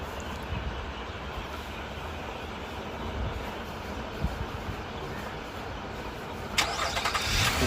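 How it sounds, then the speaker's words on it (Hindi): A 2012 Nissan Maxima's engine cranks and settles into a steady idle, heard up close as a continuous broadband rumble with a brighter burst near the end; no talking. "गाड़ी को स्टार्ट कर दिया,"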